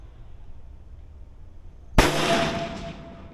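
A CZ 600 Trail .223 rifle fires a single sharp shot outdoors after a quiet stretch, and the report rings out and decays over about a second.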